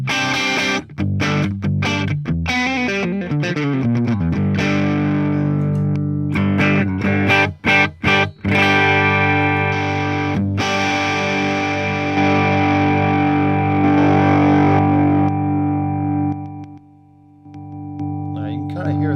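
Electric guitar running through a volume boost pedal on a Tone Master Pro, loud distorted chords and ringing notes with choppy stops, sustained riffing that cuts out briefly near the end.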